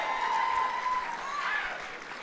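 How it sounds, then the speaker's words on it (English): Audience applause at a gala event, a steady wash of clapping held over a couple of seconds at moderate level with no voices on top. "That was a lovely holding of the applause"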